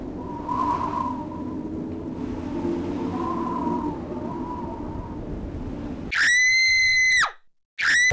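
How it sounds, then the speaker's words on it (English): A cartoon penguin lets out a loud, shrill, sustained scream, then a second short burst, after quieter background sound. "The penguin screamed and jumped into the icy water to get away"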